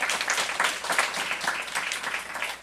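A church congregation at a Saturday worship service claps together, a brief, close burst of many hands in a steady rhythmic patter.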